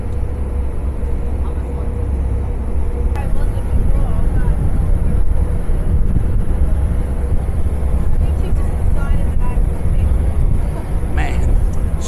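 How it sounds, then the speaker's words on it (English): Strong wind at the Manly Beach lookout in Sydney buffets the microphone with a constant loud, low roar throughout, while a person talks. "Man, it's really windy."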